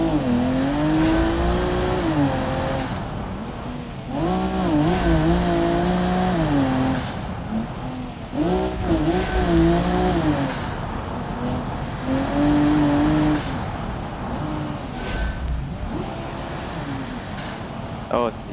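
Race car in the BeamNG driving game, engine revving hard with repeated surges and shifts, pitch climbing and dropping in cycles, loud and close, with someone talking over it at times.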